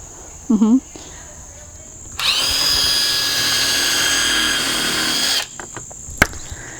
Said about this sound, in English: We are using a drill bit to keep the wood from splitting